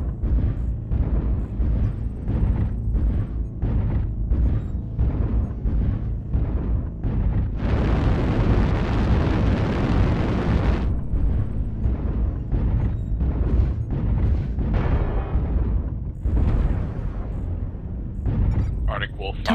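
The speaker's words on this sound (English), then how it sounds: "Artillery strike online." Artillery strikes in the MechWarrior Online battle game land as a string of deep, rumbling booms and bursts, with one longer roaring blast in the middle, all under ongoing voices.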